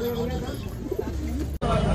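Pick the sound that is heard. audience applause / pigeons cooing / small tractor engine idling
pigeons cooing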